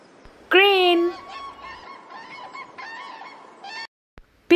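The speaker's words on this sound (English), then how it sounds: "crane" A crane calls with a loud, brassy honk, then a run of quieter, rattling trumpet-like calls before a brief pause and another loud note, with no talking.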